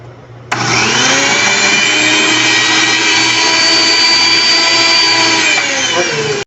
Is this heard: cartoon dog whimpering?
no